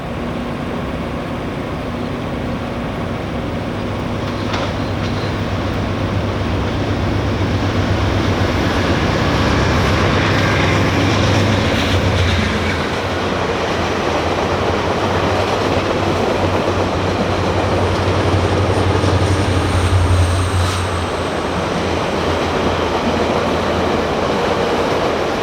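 VIA Rail corridor passenger train out of Toronto, led by an EMD locomotive working in tandem with a GE P42, passes close with a loud, steady roar, low engine drone, and rhythmic wheel clatter swelling and easing over about twenty-five seconds.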